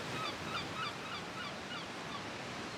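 Steady broadband roar of ocean surf crashing against a harbour wall at low tide, continuous and wind-blown, with faint bird calls scattered on top.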